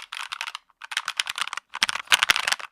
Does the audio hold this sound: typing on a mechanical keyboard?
yes